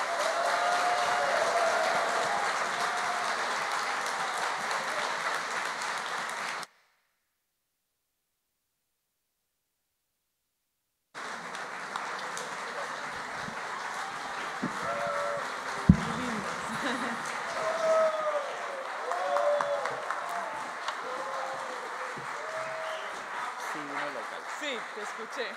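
Audience at a concert applauding to welcome the singer, a sustained wash of clapping that breaks off into silence, then resumes with voices and cheers mixed in.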